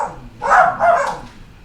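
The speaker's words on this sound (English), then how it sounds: "I'm sorry about the dogs" Pet dogs Gus and Roxy bark indoors at home in two close, loud bursts of barking and yipping, one right after the other, with no talk over them.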